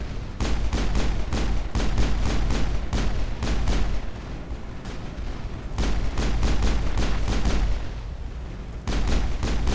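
Rapid gunfire in the video game Mass Effect, dense bursts of loud shots in quick rhythmic volleys with brief pauses between, over a constant low rumble.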